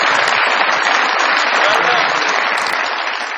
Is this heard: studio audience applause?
yes